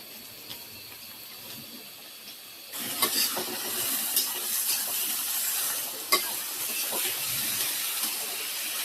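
Carrots fry in hot oil in a pan, a steady close sizzle that swells loudly partway through as stirring adds scraping clinks and sharp crackles.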